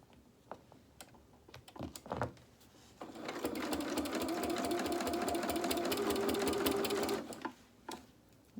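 Sewing machine tacking down the edge of a fabric quilt: a few short stitching bursts, then a steady, close, whirring run of about four seconds before it stops, with no talk.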